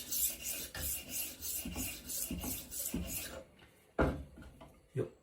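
HORL 2 rolling knife sharpener working a knife blade, a close, quiet rhythmic scraping in regular back-and-forth strokes that thin out into a few separate rasps near the end.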